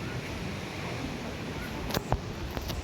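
Sea waves wash onto a beach in Salalah, a rolling surf wash mixed with gusty wind buffeting close by, with a couple of sharp splashes near the end.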